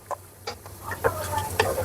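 Duck roast sizzles in a frying pan while a utensil stirs and scrapes it in a few irregular strokes, close and moderately loud.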